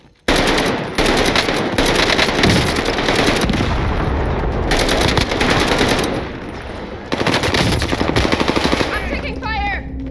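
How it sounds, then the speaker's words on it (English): Dense machine gun fire in the video game Warzone during the Godzilla vs King Kong Operation Monarch event, long loud bursts of rapid shots with brief pauses and a voice near the end. "I'm taking fire."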